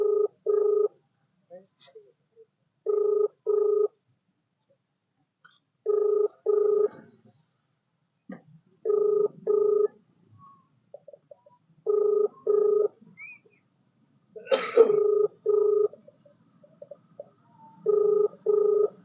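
Unanswered phone call: repeated paired ringback tones sound in regular bursts with silent gaps, clear and close, with a brief burst of faint voice and noise partway through.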